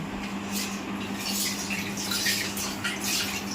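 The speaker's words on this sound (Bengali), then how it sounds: "কড়াইটা একটু ধুয়ে তারপরে বসাবো।" Tap water runs steadily into a kadai being washed in a home kitchen, a continuous splashing wash with a low hum beneath, close and fairly even throughout.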